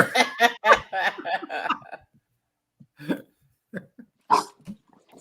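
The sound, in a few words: dog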